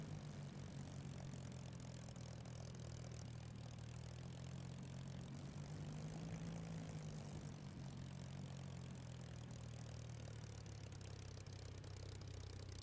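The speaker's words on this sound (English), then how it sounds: "1500 RPM bursts off to taxi" Spitfire in Microsoft Flight Simulator taxiing with brief power bursts to about 1500 RPM, a steady droning piston engine and propeller hum that rises and falls, heard fairly faint.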